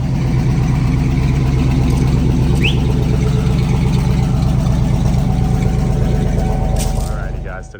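A 1997 Ford F250 pickup's engine runs loud and close at a steady rumbling idle while the truck is being moved onto a trailer, with a brief faint chirp mid-way and the sound tapering at the end.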